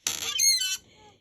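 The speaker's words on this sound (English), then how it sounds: "My MISTI squeaks," A MISTI stamping tool gives a single sharp, high squeak when pressed, loud and close, fading quickly into quiet with no talking.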